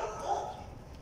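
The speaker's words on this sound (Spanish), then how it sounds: "Ay, el perro." A dog gives a single short bark, fairly faint and somewhat distant, then fades into low background noise.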